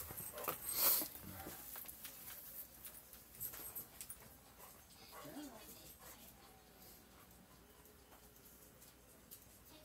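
A dog whimpers and whines to be let outside, with high yelps and scratchy movement near the start, then softer whining amid household noise and a person talking.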